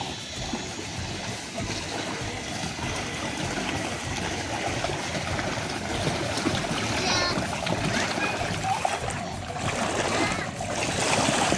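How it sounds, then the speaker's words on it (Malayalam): Water splashes and churns steadily throughout at an adventure park in Lakkidi, a dense wash of sloshing with occasional louder splats, voices faintly mixed in. "വെള്ളം തെറിപ്പിക്കല്ലേ മൊബൈലിലേക്ക്"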